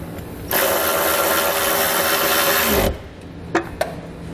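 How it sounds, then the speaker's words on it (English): A 10mm socket tightens a nut on a ring terminal while a Curt T-Connector wiring harness is fitted to a 2019 Buick. A continuous close rasping ratchet runs for about two seconds, followed by two small clicks. "I'm just going to grab a 10mm socket and tighten up the nut"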